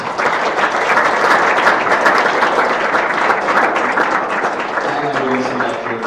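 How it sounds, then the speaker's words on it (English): Conference audience at NA Salzburg, Day 3 giving the organizers a big round of applause, loud and sustained clapping filling the room, with a voice starting to speak over it near the end. "so I think we can give them a huge round of applause"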